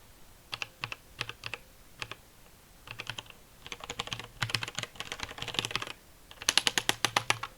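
Quick bursts of light keyboard clicks come in rapid clusters and runs, close and fairly quiet, separated by short pauses.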